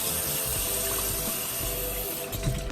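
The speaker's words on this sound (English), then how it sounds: "you wanna rinse this off. Make sure you get all that residue off the meat." Steady running tap water pours over cooked meat being rinsed in a kitchen sink, a continuous close, fairly loud wash with no talking.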